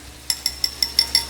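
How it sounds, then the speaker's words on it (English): A whisk stirring raspberry chipotle basting sauce in a bowl, six quick, evenly spaced metallic clinks against the side, close and crisp over a quiet background. "I wanna give it one more stir with my whisk."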